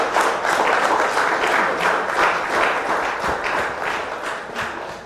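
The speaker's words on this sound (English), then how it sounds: "let's give a round of applause to our facilitator" An audience at an anniversary memorial lecture applauds the facilitator, steady dense clapping throughout, close and fairly loud, tapering slightly at the end.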